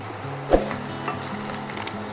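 Onions fry in a pan for a Telugu bitter gourd fry recipe, giving a steady close sizzle with an occasional stir or scrape of the utensil and a couple of light clicks, with no talking.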